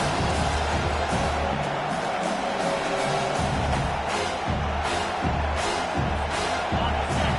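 A football stadium crowd roars steadily for the home defense on third down during an Oregon at Washington game, a dense, loud wall of cheering with a commentator's voice talking over it throughout.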